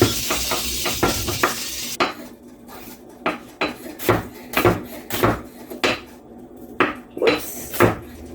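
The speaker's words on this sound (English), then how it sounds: "I'm just going to sliver the onions as thin as I can." Onions are slivered thin with a knife on a cutting board, a series of crisp, irregular clacking cuts close by, busier at the start and then spaced out.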